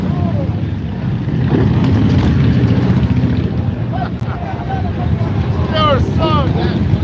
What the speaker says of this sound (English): Oh, somebody pulling a wheelie.